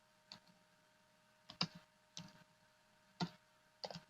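Clicks of keys come from a computer keyboard as a short Linux command is typed, five sparse taps spread unevenly over a faint steady hum, with no voice.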